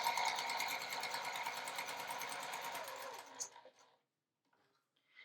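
A sewing machine stitches around the edge of a pot holder, a fast steady mechanical whir for about three seconds before it slows and stops, leaving near silence.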